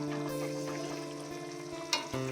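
Fresh pond fish simmers in a sour Bengali curry, giving a steady, close bubbling sizzle over a constant low hum, with a couple of brief clinks near the end.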